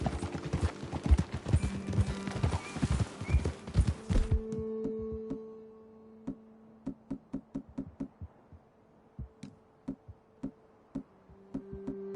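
Horse hooves clip-clop at a steady walking pace in the video game Red Dead Redemption 2, over a murmur of background music, slowing into separate, spaced knocks toward the end.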